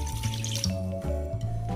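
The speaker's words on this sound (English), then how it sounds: "I'm then going to add half a glass of water to kadai" Half a glass of water poured into a kadai while cooking a spicy Indian squid fry, a steady close splashing trickle running through the whole short moment with no voices.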